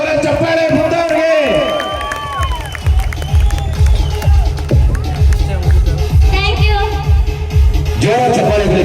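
An audience claps loudly at a gathering, a busy patter of applause that builds and holds, mixed with crowd noise and a voice speaking over it.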